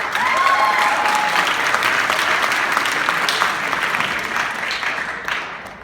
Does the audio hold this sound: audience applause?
yes